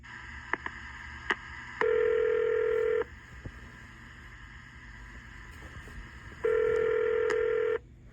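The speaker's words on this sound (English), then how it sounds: "I'm going to dial his phone number right now" Touch-tone keypad tones dial a telephone number for a radio show prank call: a few short beeps followed by two longer steady tone bursts, clear and close over a low background hum.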